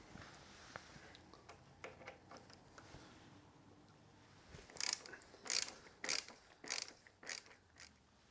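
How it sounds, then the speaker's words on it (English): Ratchet wrench loosening a bolt on a BMW R1200 GS motorcycle while fitting a headlight protector; soft scattered ticks first, then a series of loud, sharp ratcheting bursts in steady rhythm, close and with no talking. "So let's first of all take that bolt out"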